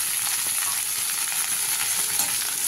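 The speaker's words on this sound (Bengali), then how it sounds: "এটা লাল লাল করে কষে নেব ভালো করে মশলা দিয়ে" Spice masala being sautéed in a pan, a loud, dense, unbroken sizzle with faint stirring, close up and with no voices.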